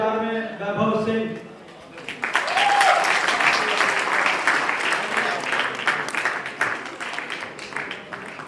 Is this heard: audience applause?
yes